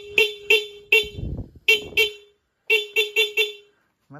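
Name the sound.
motorcycle dual horn with stock horn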